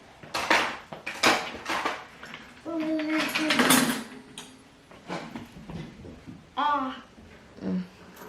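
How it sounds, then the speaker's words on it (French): Metal cutlery, knives included, clinks and clatters in short bursts as a child and parent lift it out of a dishwasher at home, with someone talking in French between and over the jangling. "Elle m'aide à enlever tous les couverts qu'il y a donc, dans le lave-vaisselle, y compris les couteaux."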